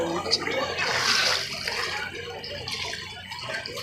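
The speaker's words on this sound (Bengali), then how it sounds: "এই যে জল বেরোচ্ছে সব এটা দিয়ে, ভালো করে।" Floodwater rushes steadily out through a school gate during a local flood, a continuous churning gush with voices nearby.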